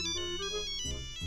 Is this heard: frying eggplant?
no